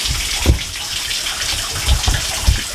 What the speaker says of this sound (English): So we're gonna fill up the bathtub with water and then I'm gonna throw her in.